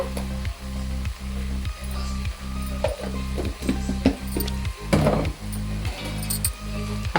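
Amaranth leaves frying in a pan with chili powder, stirred with repeated scraping strokes and light utensil clinks over a continuous loud sizzle and a steady low hum, no talk.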